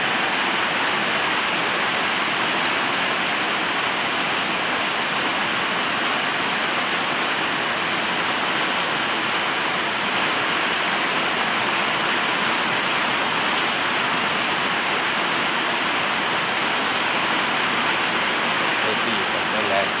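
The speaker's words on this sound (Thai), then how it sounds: "ฝนชุมมาทั้งวันทั้งคืน" Heavy, constant downpour after a day and night of rain, a loud, dense, unbroken roar of water pouring down with no pauses, heard close and alone.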